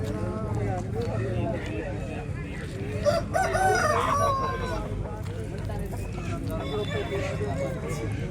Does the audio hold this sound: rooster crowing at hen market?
yes